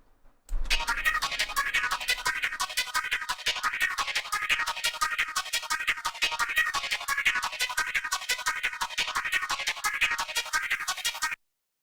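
A Soundtoys FilterFreak filter effect sweeps rhythmically over a music track, producing regular pulsing swoops that rise and fall in a steady pattern for about eleven seconds before stopping abruptly.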